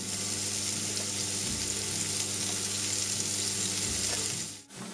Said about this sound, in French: On va mettre les gambas à poêler.